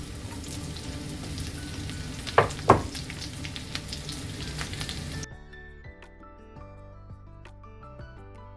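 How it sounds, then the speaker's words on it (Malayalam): Sliced garlic and chopped green chilies sizzle steadily in hot oil for egg Manchurian, a close, continuous frying hiss with two sharp pops midway before it settles into a quieter sizzle. "അതിലോട്ട് നമുക്ക് 2 അല്ലി വെളുത്തുള്ളി വട്ടത്തിൽ കട്ട് ചെയ്തത്, 2 പച്ചമുളക് കട്ട് ചെയ്തത്,"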